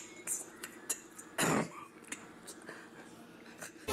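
A single short cough bursts out in the middle of quiet background murmur, with faint whispery voices and small clicks around it.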